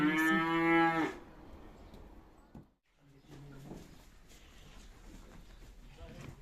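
A cow gives one loud, close, drawn-out moo in a barn, followed by quieter barn shuffling and low sounds, with a person talking softly in the background.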